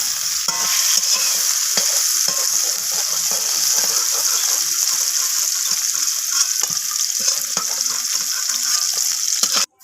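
Sliced onions sizzle loudly in oil in a kadai, reused after frying bitter gourd and okra for a mixed-vegetable prawn chorchori, with a constant close hiss and frequent clattering stirs before it cuts off abruptly.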